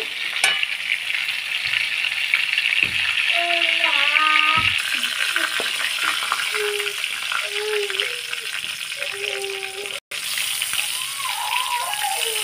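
Steady sizzling of pointed gourd frying in a pan fills the scene, with occasional stirring clatter and brief tonal clinks, fairly close and continuous.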